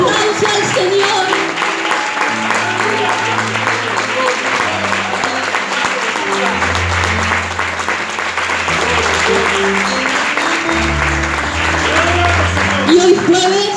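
A church congregation claps for the Lord, sustained crowd applause running throughout while music with a low bass line plays underneath and voices sound over it.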